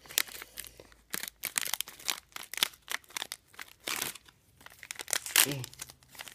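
Close-up crinkling and snipping as scissors cut plastic packaging, irregular bursts of cutting and crumpling with short pauses, no one speaking.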